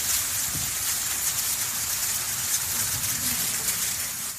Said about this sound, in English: That's the sound of ash rain soon after the Hungatonga Hungaha'apai volcano erupted on January 15th.